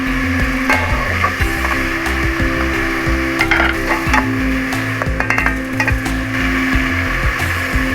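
Whole spices — cumin, black pepper, cloves, cinnamon pieces, bay leaf and green and black cardamom — sizzle steadily in hot oil for a Kabuli chana degi pulao, with scraping stirs and a low background hum, no talking.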